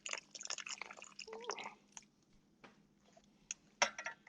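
Water, two cups of it, poured into a bowl for bread dough: faint splashing and dripping in uneven bursts, with small clinks from a bowl or utensils and quieter gaps between.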